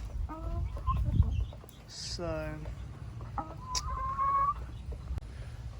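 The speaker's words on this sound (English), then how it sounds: "that chicken's gonna go lay an egg for me" Chickens cluck and cackle on a chicken farm, with several short clucks, a rising squawk and a drawn-out cackle over low rumbling background noise, while a person briefly speaks.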